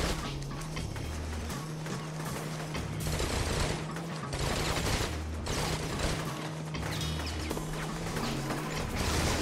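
Minigun fire in the video game Infamous grinds out in long rattling bursts over a low droning pulse, dense and mechanical, continuing without letup across the stretch.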